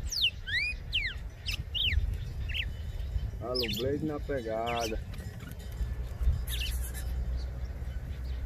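A red-cowled cardinal, the galo de campina, sings in short whistled phrases and rapid trills over a steady outdoor background, while someone talks over the song.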